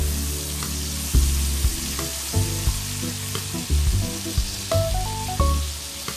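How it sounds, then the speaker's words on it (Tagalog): Beef and onions sauté in a pan for Filipino beef steak, a steady loud sizzle broken by scattered clanks and scrapes of a utensil stirring, close up and with no voices. "Nagigisa lang natin yan. Gisa-gisa."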